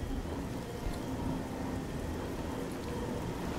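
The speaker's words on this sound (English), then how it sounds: "Oh, and the rain's kicking in." Rain falls in the game Oblivion as a steady, even wash of hiss with soft low rumble beneath it. The sound is fairly faint and continuous, with no voices.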